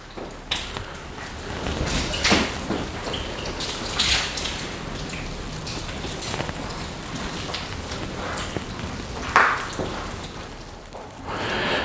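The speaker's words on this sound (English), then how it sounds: "grab our wash mitt and we will just give it a nice, quick, easy wash using CarPro Reset" A car is washed with a wash mitt and CarPro Reset soapy water, giving a steady wet hiss and splashing with scattered louder swishes and drips close by; no speech.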